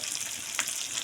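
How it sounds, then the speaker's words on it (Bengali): Goat meat cooking in a pan gives a steady broadband sizzle throughout, with one brief louder hiss about midway, and no voices. "আমরা পাঁঠার মাংস রান্না করছি"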